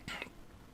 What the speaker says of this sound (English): that was a coughing fit